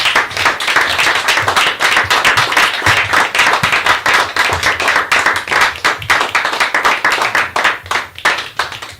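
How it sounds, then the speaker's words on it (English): A festival audience at a film-festival evening keeps clapping loudly and continuously. Individual hand claps stand out sharply within the rapid, close, sustained applause for about nine seconds. "don't stop clapping till this brother gets up here for Eric Marsh"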